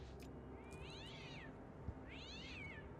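A cat in the video game Shadow of the Mask lets out two drawn-out meows, fairly faint over a quiet background hum, with no one talking.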